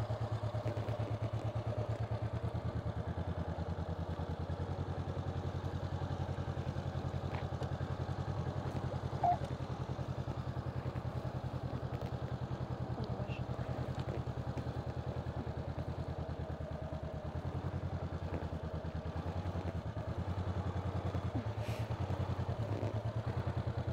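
A motorcycle engine runs steadily at low revs during a slow-speed A2 licence riding lesson, a continuous low drone with slight throttle swells and faint clatter, no talking.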